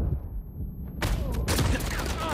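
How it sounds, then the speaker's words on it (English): Rapid bursts of gunfire in an Uncharted 4 multiplayer match, a weapon firing repeatedly at a box; loud, close shots begin after a quiet second and continue densely to the end. "This guy's just shooting a box for some reason."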